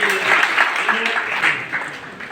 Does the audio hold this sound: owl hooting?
no